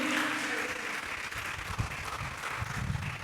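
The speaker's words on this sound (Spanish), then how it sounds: "le puedo dar un fuerte aplauso al Señor" A church congregation claps steadily together in a dense, sustained burst of applause that fills the room, with no speech over it.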